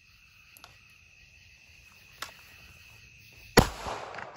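A handgun, an M&P full size with a weapon light and Holosun sight, fired during low-light shooting practice: one sharp, loud shot cracks out after a long quiet stretch of steady insect chirping, with another starting right at the end.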